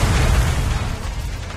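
A sound effect of a metal fire escape collapsing during a deadly factory fire, heard as a loud, heavy rumbling crash with booming low end that slowly fades over about a second and a half.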